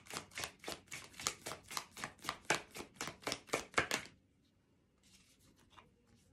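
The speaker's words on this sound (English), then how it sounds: "somebody's working on a roof next door to me." Repeated banging from roof work on the house next door, about a dozen sharp, fairly loud knocks in a steady rhythm, then stopping, with a few faint taps afterward.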